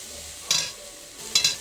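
Turmeric, coriander and fennel lightly frying in a pan, a soft low sizzle broken by two brief bright scraping bursts of stirring, close with no talk.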